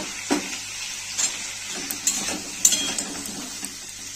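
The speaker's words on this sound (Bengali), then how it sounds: "ভেজে নেবো এইভাবে।" Potato pieces frying in a pan before chickpeas go in, a soft steady sizzle with a few light clinks and stirring taps, fairly quiet and close, no talking.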